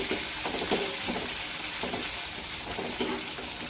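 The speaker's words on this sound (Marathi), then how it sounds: "कोथिंबीरला पण छान असं परतून घ्यायचं आहे फोडणीमध्ये." Coriander leaves sizzle in hot oil with sautéed onion in a tempering, a soft continuous crackle with faint stirring scrapes, close and quiet with no talk.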